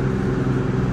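Steady low engine drone of a MAN NG320 Lion's City 18 G articulated CNG hybrid city bus in Ljubljana, a constant idling hum heard from inside the vehicle.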